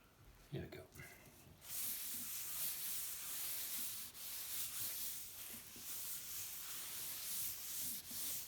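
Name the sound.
sanding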